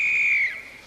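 A single loud, clear referee's whistle blast starts a game at a 1979 It's a Knockout team contest, held for about half a second and then fading.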